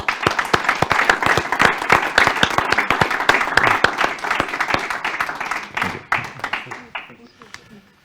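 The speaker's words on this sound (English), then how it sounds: "Please join in my gratitude to the panelists with a round of applause for them." A room full of people clapping steadily for a panel at a talk, dense applause that holds strong for several seconds then thins out and fades toward the end.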